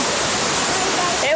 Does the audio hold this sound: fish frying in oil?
no